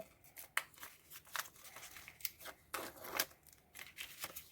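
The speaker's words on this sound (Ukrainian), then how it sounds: "Відкриваю цей пакетик з кружочками, з кругляшами." Close crinkling and rustling of a small paper packet of round stickers being torn open, with sharp irregular crackles and tears in quick bursts.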